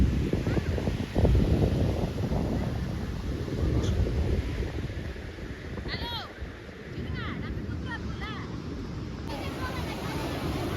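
Sea waves roll and wash continuously against a rocky beach, a broad rushing surf with wind buffeting the microphone and voices chattering faintly in the background.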